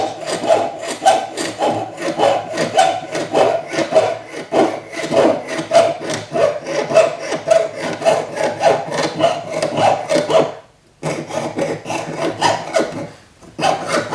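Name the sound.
jeweler's saw cutting metal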